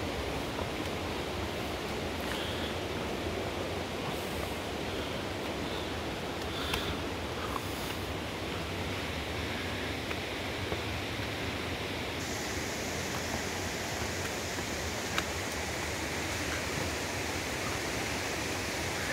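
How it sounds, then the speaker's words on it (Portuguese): Broadband, steady rush of a waterfall inside a cave, a continuous close roar of falling water with no talk over it. "Ó, a cachoeira da gruta."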